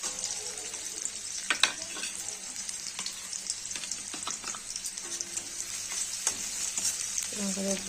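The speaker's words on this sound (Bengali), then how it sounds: "তেল দিয়ে আমি পেঁয়াজ আর কাঁচা লঙ্কাটা দিয়ে নেব" Onion and green chili fry in oil in a wok with a soft, constant sizzle, while scattered clinks and scrapes of stirring sound close by.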